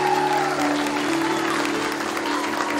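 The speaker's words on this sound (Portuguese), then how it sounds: "Uma salva de palmas para a aluna Brenda Santana de Souza" Steady applause from an audience at a school graduation ceremony for fifth graders, a broad continuous wash of clapping held at an even level for a few seconds, with a faint sustained tone running underneath.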